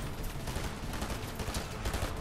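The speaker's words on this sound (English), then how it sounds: "Another team's shooting." Fortnite gunfire from another team rattles in a dense, continuous barrage of rapid shots, loud and unbroken throughout, with no talk.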